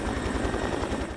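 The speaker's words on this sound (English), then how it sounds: "day four has had a coordinated air attack with helicopters dropping loads within minutes of each other" Firefighting helicopter flying over the Alisal Fire on the Gaviota Coast, a steady loud rotor thump with a broad roaring wash, close and continuous with no voices.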